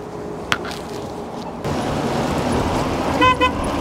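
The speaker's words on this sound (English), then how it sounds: "Wow, that's like a real car horn." Two quick honks from an electric moped's small horn near the end, cutting through steady road and wind noise while riding.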